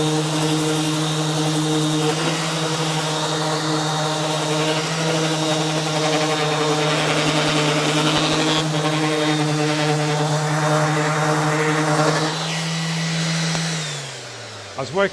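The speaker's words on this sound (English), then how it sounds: "now I'm going to hit it with the sander" Electric sander working on a wooden lathe cart, starting on the back side, giving a loud, steady whine that runs without a break and winds down near the end.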